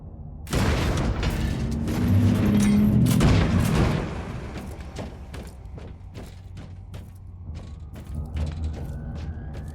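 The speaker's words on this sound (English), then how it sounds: "Open the door!" Heavy mechanical door in a Warhammer 40000 game grinding open with a loud rumbling, clanking surge for a few seconds, then a series of sharp metallic clicks and creaks as it settles.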